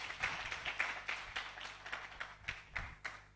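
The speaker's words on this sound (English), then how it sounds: "We feel like the round of applause was a bit lacking" Scattered clapping at an Africa Youth Month commemoration, sparse and somewhat faint, with distinct individual claps in an uneven rhythm rather than a full ovation.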